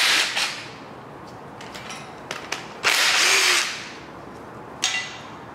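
Power tool, likely an impact driver or drill, backing out 10 mm bolts on an LS 5.3L LM7 V8 engine, in several short close bursts with a longer whir near the middle and a brief final spurt.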